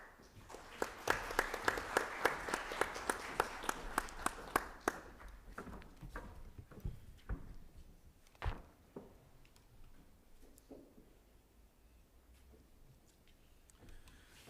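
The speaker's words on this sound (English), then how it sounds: "I'm happy that you clapped hands" An audience at an investment and infrastructure media briefing breaks into applause, a brief burst of rapid hand claps that soon thins into a few scattered claps and fades into quiet room noise.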